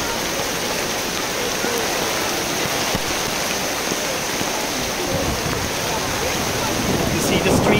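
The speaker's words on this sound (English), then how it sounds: "it's coming pouring down like crazy" Heavy rain pouring down outdoors during an evening program in Medjugorje, a loud, dense, steady hiss with some wind buffeting and faint voices underneath.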